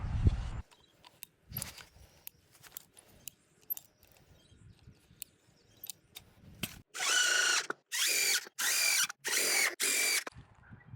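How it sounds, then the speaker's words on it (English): A power driver drives screws to join plastic septic tank riser sections, first in short scattered clicks and taps, then four loud whirring bursts in steady succession near the end. "so now we need to screw that one together"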